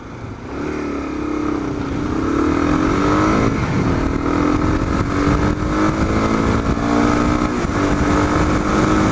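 A Kawasaki KLR 650 motorcycle engine revs hard and climbs in pitch accelerating from 0 to 60 mph into third gear, loud and close, with a brief dip between gear changes.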